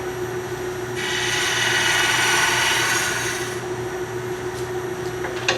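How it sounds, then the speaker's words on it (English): A bowl gouge cutting a cove in wood spinning on a lathe, giving a steady rasping shear over a constant motor hum, swelling louder for a few seconds in the middle before easing back. "see, this tool here is a bowl gouge"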